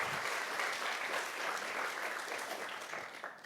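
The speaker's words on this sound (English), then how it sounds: "Let's give Lauren a big round of applause." Audience applause at the Longaberger Homecoming 125th anniversary celebration, a fairly distant, soft wash of many hands clapping that swells briefly and then fades toward the end.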